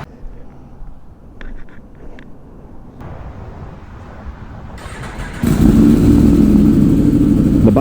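A Yamaha R1 sportbike fitted with an SC Project muffler idles and builds engine noise, then jumps into a loud, sustained rev partway through, heard close and with no talk.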